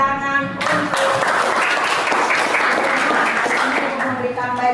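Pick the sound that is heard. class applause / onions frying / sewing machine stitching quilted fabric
class applause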